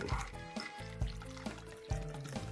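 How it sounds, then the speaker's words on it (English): A Brown Derby cocktail being poured into a glass, a short liquid pour with a few splashy drips, close and moderately loud, with a faint tonal background. "let's go ahead and pour her one too"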